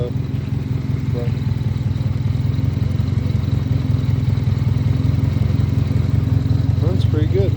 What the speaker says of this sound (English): it goes back down because I got it idled too low.